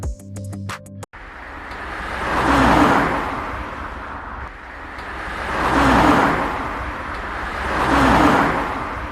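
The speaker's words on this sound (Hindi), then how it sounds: "सुनियो धीरे धीरे बहुत ज़्यादा तेज चलाने लगता है गाड़ी।" Cartoon car driven faster and faster, its engine noise swelling and fading in repeated broad roaring passes, loud and close, after a brief burst of tonal music at the start.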